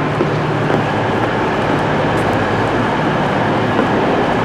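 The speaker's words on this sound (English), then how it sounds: "started out East Midlands Trains class 43s" An East Midlands Trains class 43 diesel train runs with a loud, continuous rumble and rushing noise throughout, with no voices.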